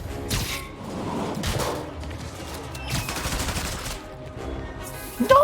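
Bursts of gunfire during a holdup in the video game Marvel's Spider-Man, several loud volleys separated by short gaps with a sharp hit at the end.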